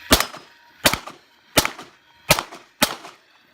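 Five sharp pistol gunshots ring out at a steady, evenly spaced rhythm during a shooting league match, each crack loud and close with a short decaying tail.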